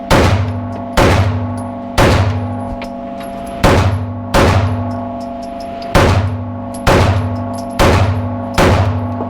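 Ten pistol shots fired one-handed at a shooting range, loud and sharp, each crack ringing out and decaying, spaced roughly a second apart with a few slightly longer pauses.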